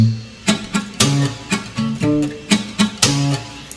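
Reggae guitar part, percussive slaps on the strings alternating with plucked bass notes in a choppy, syncopated rhythm of short, close hits, no talk.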